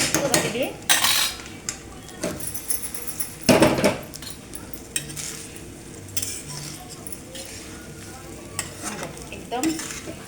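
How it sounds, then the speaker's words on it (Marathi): Masala-stuffed okra (bharli bhindi) frying in a kadhai is stirred, with repeated metal utensil scrapes and clinks against the pan over a low sizzle, loud close strokes spaced irregularly with quieter stretches between. "आता आपण कढईला खोललेलं आहे, तर जरा आपण हे हलवून घेऊया"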